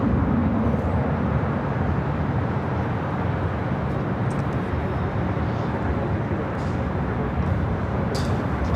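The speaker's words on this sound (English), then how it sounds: "France Flight 23 heading back to Paris, heading up for a north side takeoff." An Air France jet taxis at LAX toward a north side takeoff, a loud, steady low engine rumble and roar filling the whole stretch without a break.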